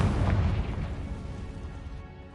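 A Confringo spell bursts in Hogwarts Legacy, a single loud fiery explosion that hits at once and then rumbles and fades over a couple of seconds.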